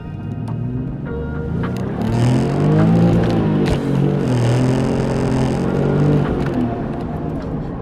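A Porsche 996 911 Turbo drives along with a steady, rumbling engine note that swells as it gathers pace, heard from inside the car with no talking.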